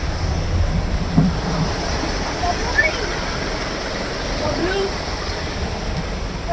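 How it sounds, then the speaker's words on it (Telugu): Small waterfall in the Tekkady forest, a steady broadband rush of falling water with wind buffeting the microphone and brief voices underneath. "చిన్న వాటర్ ఫాల్"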